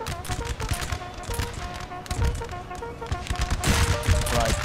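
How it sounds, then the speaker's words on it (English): Musket volleys crackle nonstop in a Napoleon: Total War battle, a dense, steady fusillade of overlapping shots that runs throughout with a faint tonal layer underneath. "There's tons of gunfire going in."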